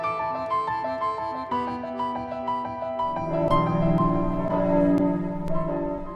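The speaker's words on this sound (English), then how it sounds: "chiming church bells," Church bells chime continuously in a layered, ringing cascade of overlapping tones, growing fuller and louder partway through, heard alone without talk.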